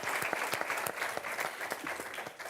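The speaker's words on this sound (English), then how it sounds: "An applause, please." Conference audience applauding at the close of a morning session, a moderate, slightly uneven round of clapping with distinct individual claps standing out, fairly soft overall.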